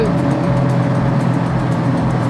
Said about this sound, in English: especially with the ginormous V8 in front of us